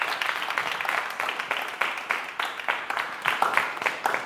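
An audience applauds a musician after a performance, with steady, moderately faint clapping that has a slightly uneven rhythm and rises a little toward the end.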